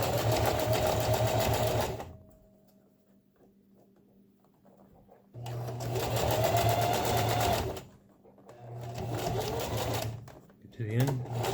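A sewing machine stitches pulled-tight mesh for a rappel rope bag in three rapid whirring bursts, separated by quiet pauses, fairly close.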